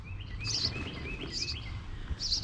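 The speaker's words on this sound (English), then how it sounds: "I don't know if you can hear the baby birds or see." Baby birds in a garden nest give high, thin chirps in three short, faint bursts, with softer tweets between them over a quiet outdoor background.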